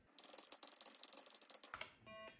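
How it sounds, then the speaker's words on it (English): Fast, close clicking of keys on a flaky Mitsumi keyboard of a Texas Instruments TI-99/4A home computer, about a second and a half of typed keystrokes, followed by a short electronic tone. "So I'm going to try to type the phrase, this is a test of the keyboard,"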